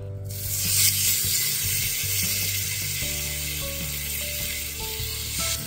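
Marinated chicken sizzles in hot melted ghee inside a pressure cooker, a steady, close frying hiss that goes on throughout with faint clinks of cookware.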